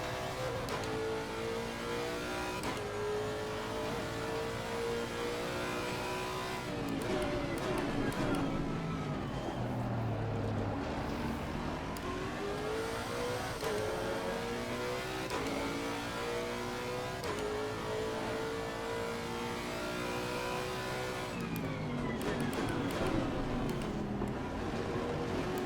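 Ferrari GT race car engine in Assetto Corsa Competizione, revving and shifting continuously through gears at close range as cars race past, with brief spoken commentary over it.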